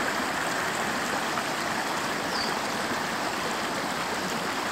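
A clear, cold mountain stream on a hike in Kashmir rushes steadily and fairly close, a constant broadband wash of flowing water with no voices.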